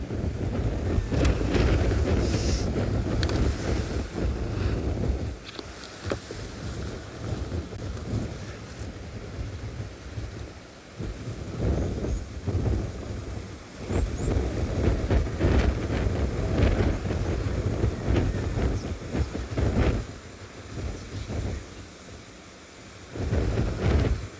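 Strong wind gusting across a microphone on a morning safari in South Africa, a loud continuous roar that rises and falls in buffeting waves throughout.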